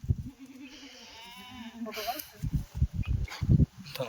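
Kathiawari goats on a Maharashtra farm bleat in a wavering cry, joined by rustling and footsteps, while someone talks loudly over the animals.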